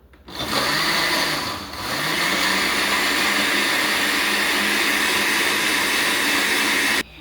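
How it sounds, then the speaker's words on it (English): A blender motor whirs loudly and steadily for several seconds, with a brief dip in pitch early on before it settles into a constant roar. "put it on top of the blender. Now we're gonna press number 1."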